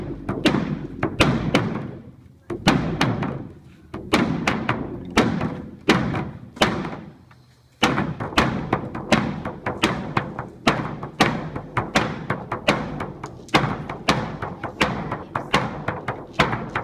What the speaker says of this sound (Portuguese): Quando o Biancó assume o baque melê, ele faz isso